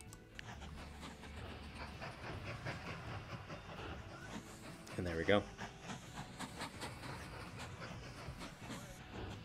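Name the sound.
train passing in the video game Mashinky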